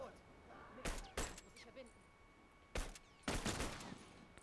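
Automatic rifle gunfire from The Last of Us multiplayer on PS4: several separate sharp bursts of shots, loud and close, with quieter game ambience in between.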